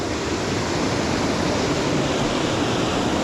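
Waterfall at Hareshaw Linn pouring steadily, a loud, continuous broadband rush of falling water with no breaks and no voices over it.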